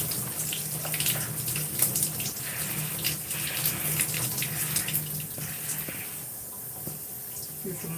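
Water runs steadily from a tap while product is rinsed out of hair, a close splashing flow with small irregular drips and spatters, easing slightly toward the end.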